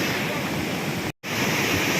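A river swollen to flood level after a night of heavy village rain, a loud, steady broadband roar of rushing water with one very brief break, and no voices.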